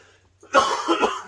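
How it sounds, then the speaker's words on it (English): A single loud, close cough after a moment of near silence, trailing into a throaty rasp. "That was a cough"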